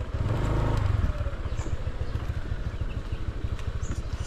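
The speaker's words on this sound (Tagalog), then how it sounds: "Ito na yung motor." A motorcycle engine rumbles at close range, strongest in the opening second and then running on as a steady low drone.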